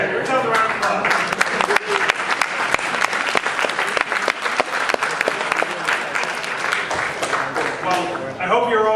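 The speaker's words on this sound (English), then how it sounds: "give yourselves a round of applause" A roomful of first-time attendees at a 2015 HackPoly hackathon bursts into sustained applause, dense clapping with scattered cheers that holds steady for several seconds before a voice starts speaking near the end.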